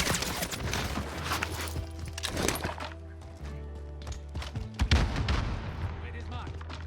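Gunfire and sniper shots in a Call of Duty match, a mix of loud booms and rattling bursts that come and go amid game noise, with a voice talking at times.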